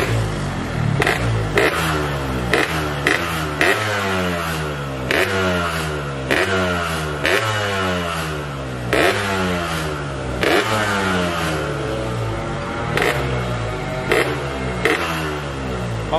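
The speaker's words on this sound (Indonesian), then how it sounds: "coba kita cek sound dulu nih, untuk di suara knalpotnya nih, Bos Q." A Yamaha RX-King motorcycle exhaust revs hard again and again, each throttle blip rising and falling in quick rhythmic waves, loud and close, with no talking over it.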